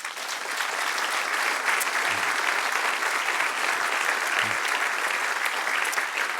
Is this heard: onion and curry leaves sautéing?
no